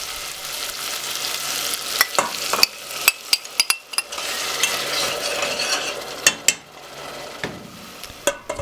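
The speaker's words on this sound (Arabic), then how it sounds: "تضيف الطماطم وتطبخه حتى الطماطم تذوب شوية" Tomatoes sizzling and cooking in a pot for Yemeni vegetable stew, a soft frying hiss broken by repeated sharp scrapes and knocks of a utensil stirring against the pot.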